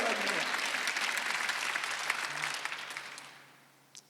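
A church congregation at a Sunday worship service claps together, a loud, full burst of applause that gradually fades away toward the end, leaving a single late clap.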